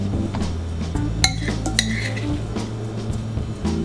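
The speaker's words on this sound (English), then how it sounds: "we're just gonna spoon all the cauliflower stuff in there" A spoon scrapes and clinks against a bowl while scooping cooked cauliflower into a kitchen towel, with a few sharper metallic taps over a low steady background hum.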